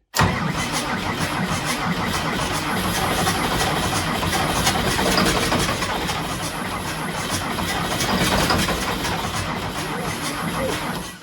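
Ford 8700 tractor with a 270hp diesel engine running loud and close, a dense steady rumble with slight surges throughout that starts abruptly.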